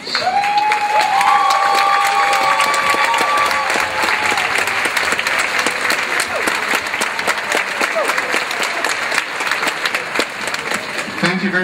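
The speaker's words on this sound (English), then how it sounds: "could we ask all parents of graduates to please rise for a big round of applause?" A big round of applause for graduates' parents at a community college commencement ceremony, dense sustained clapping from a large crowd with scattered cheers and shouts, loud and steady throughout, with brief voices rising over it.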